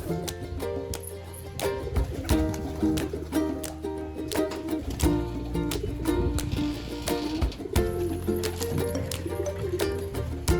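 Domestic pigeons coo in a loft, soft repeated throaty calls overlapping in a steady chorus, with close wing rustles and occasional bumps.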